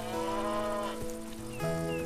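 Cows low at a lake in sweltering summer heat. Two or more long, drawn-out moos follow one after another, the second starting as the first fades, fairly close with no voices.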